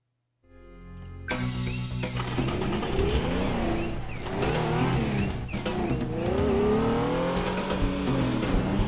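Car driven in the video game Teardown, handling badly: an engine roars and revs continuously after a brief start, with rising and falling pitch, tire squeal and bumps, loud and close with no talking.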